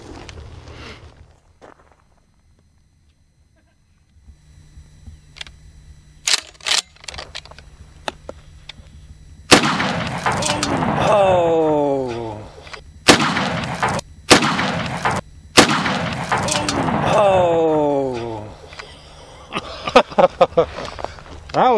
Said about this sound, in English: I got some low recoil buckshot. I'm gonna go ahead and give it a shot.